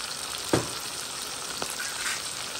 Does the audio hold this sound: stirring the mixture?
yes